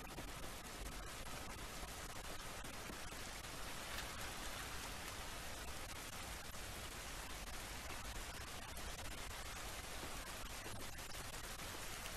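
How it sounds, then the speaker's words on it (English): Rain in the video game The Last of Us Remastered falls as an even, faint hiss that continues unchanged for around twelve seconds, with no voices. "It's raining"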